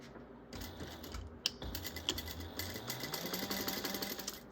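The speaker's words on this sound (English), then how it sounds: "I just sew down the one side and sew back up the other." Sewing machine stitching fabric seams on a handmade bag, a steady, fast mechanical whir with rapid needle clatter running continuously at close range and no talk.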